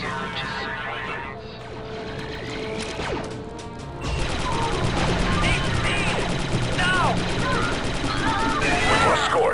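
Blaster fire from clone commandos and droids in a Star Wars: Republic Commando battle, a dense run of sharp crackling shots and impacts that grows louder partway through, with a voice speaking over the fighting.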